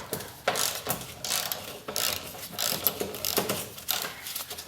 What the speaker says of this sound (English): I'm going to just take these bolts off right here and disconnect that vacuum canister